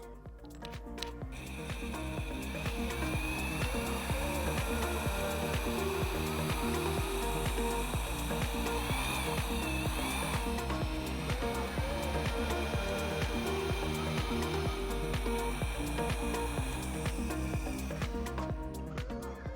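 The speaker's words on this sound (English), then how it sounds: "We're gonna move up the drill bit size to the" Power drill boring out a broken bolt with a 9/64 bit, a steady loud whine holding nearly unbroken for about eighteen seconds with slight pitch shifts and a brief dip midway.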